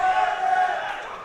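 A boxing crowd comes alive for Kevin Torres during his bout with Andrew Rodgers, a steady, loud wash of cheering voices filling the arena without a break.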